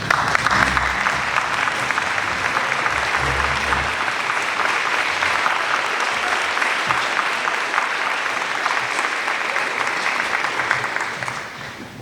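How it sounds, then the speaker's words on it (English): A large crowd at a teacher of the year award ceremony claps steadily for several seconds, a dense wash of applause that fades slightly toward the end. "please stand so we can offer you a round of applause"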